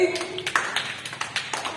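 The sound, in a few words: children clapping for a classmate in class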